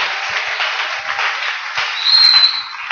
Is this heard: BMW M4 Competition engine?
no